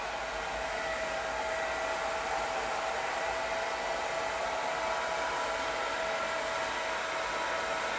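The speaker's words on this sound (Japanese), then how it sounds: "ドライヤーかけるのめっちゃ上手くなってきたよね。" A hair dryer blows steadily and close by while someone's hair is being dried, a continuous loud airy whoosh with a faint motor whine that holds evenly throughout.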